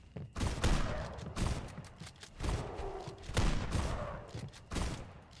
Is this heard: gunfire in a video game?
yes